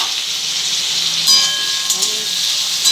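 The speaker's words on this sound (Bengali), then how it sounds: "আমি আলু ভাজাটা বসিয়ে দিয়েছি।" Potatoes fry in a pan with a steady, fairly loud sizzling hiss that runs throughout, with a few brief sharper crackles and faint tonal clinks near the end.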